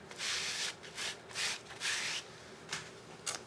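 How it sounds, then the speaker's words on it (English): Rubber stamps being wiped clean with non-alcohol baby wipes, a series of soft close rubbing strokes in uneven bursts, quiet and without speech. "I use baby wipes, non-alcohol baby wipes. I just find that's easier to get my stamps nice and clean with."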